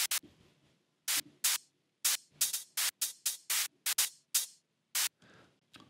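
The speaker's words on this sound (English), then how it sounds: "With another sound that we are adding later is this white noise hat here." Bright bursts of white-noise hi-hat in a melodic techno track fire in an irregular, syncopated pattern, short hissy hits of varying length separated by brief gaps.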